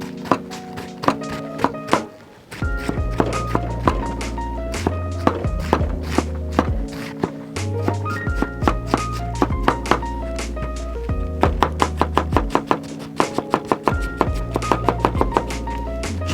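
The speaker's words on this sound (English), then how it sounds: "First thing we're gonna do, chop some cabbage." A knife chops purple cabbage on a cutting board in a home kitchen, with quick steady thunks in rapid runs and short pauses between, close and loud.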